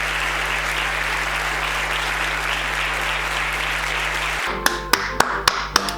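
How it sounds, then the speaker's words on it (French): A film screening audience gives dense, sustained applause that cuts off abruptly, followed by a handful of sharp, isolated claps. "les gens se lèvent, les gens applaudissent, c'est incroyable"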